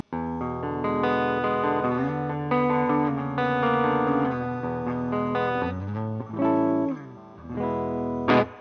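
An electric guitar neck pickup through a Mesa Boogie amp on its clean channel plays warm, rounded chords and melodic lines, sustained and fairly loud, with no talking.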